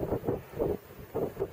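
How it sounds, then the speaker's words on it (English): Gusty wind buffets the microphone in low rumbling bursts, rising and falling several times over a steady outdoor hiss. "A bit windy"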